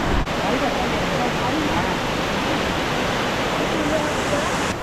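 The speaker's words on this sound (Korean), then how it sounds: "물이 진짜 많이 쏟아지긴 하네요. 이게 3단으로 된 폭포라고 하는데" Heavy water pours down the three-tiered Bongnae waterfall on Ulleungdo island, a dense, unbroken roar heard up close for the whole stretch.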